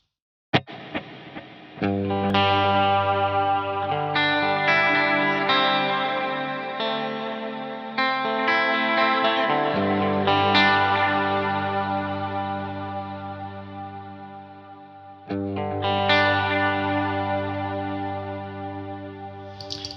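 Sustained electric guitar chords through a Line 6 HX Stomp or Helix, washed in lush reverb with a long, six-second shimmering decay, notes ringing and blending into each other.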